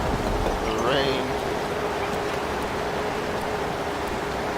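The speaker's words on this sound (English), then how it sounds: "Until the rain." Steady rain falling in the video game Genital Jousting, a constant broadband hiss that runs the whole time at moderate loudness, with a brief tonal whistle rising early on.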